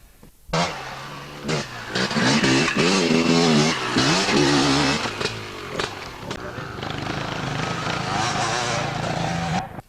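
A 260cc Husqvarna enduro motorcycle at a 1990 two-day enduro event, its two-stroke engine buzzing loud and close as it revs and passes, rising and falling in pitch, with a commentator talking over it throughout.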